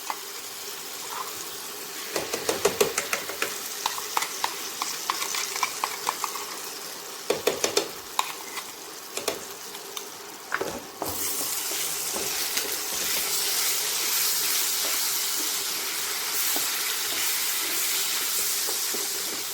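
A paste of ground cashew, poppy seed, green chilli and melon seeds fries on an induction cooktop on low heat, giving a steady close sizzle with bursts of scraping and stirring, then a louder continuous hiss.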